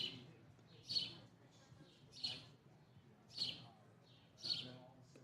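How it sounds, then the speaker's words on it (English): Four short, high-pitched bird chirps at roughly one-second intervals, fairly faint against a low background murmur at an outdoor college baseball game, with no one talking. "you're going to hear the birds enjoying this broadcast"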